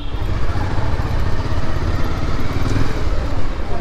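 A motorcycle rumbles steadily while being parked in a crowded garage in Bogura city, its engine loud and close amid traffic clatter, with faint voices mixed in.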